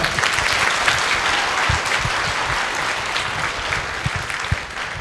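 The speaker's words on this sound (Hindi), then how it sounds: "एक बार जोरदार तालियां, जोरदार" Students in an auditorium break into loud applause for their director before the 2024 entrance exam, steady massed clapping with a few sharper claps standing out near the front.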